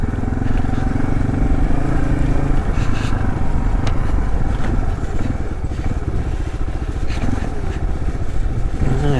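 Electric-start motorcycle ridden along a path in the woods, its engine running steadily and close throughout with rattling and scraping mixed in, under faint background voices.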